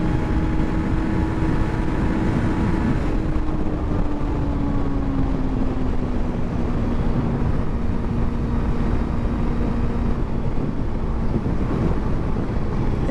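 A 2023 Suzuki GSX-250R motorcycle runs at full throttle with the rider tucked, its engine drone steady and sustained under heavy, roaring wind rush, with the pitch sagging slightly over time.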